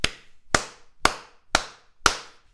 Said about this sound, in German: Zuallererst möchte ich gerne einen Applaus spenden.